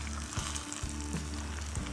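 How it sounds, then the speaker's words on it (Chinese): Rice with stir-fried vegetables, peas and chives crackles in an oiled, covered pot as a crispy bottom crust forms, a continuous close sizzle and pop over a low steady hum. "你听到下面这个滋滋声没？ 有锅巴了"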